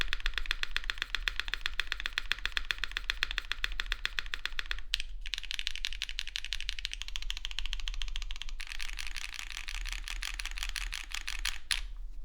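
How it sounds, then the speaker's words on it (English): Someone types steadily on a Monokei x Singa Neko prototype mechanical keyboard built without foam, producing a dense, rapid stream of clacky keystrokes up close, with a few brief pauses and louder thocks along the way. "This sounds pretty deep. Well, okay, it's clacky, but considering there's no foam, you can have good boards without foam."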